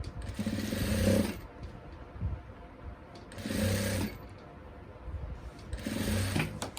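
A sewing machine stitching a salwar runs in three separate bursts of rapid whirring, each lasting about a second. Short quiet pauses with faint cloth handling fall between the bursts.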